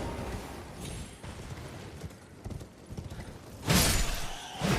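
Horse hooves clip-clopping in a steady rhythm in the video game Elden Ring, over rumbling background noise, with a louder burst of noise near the end.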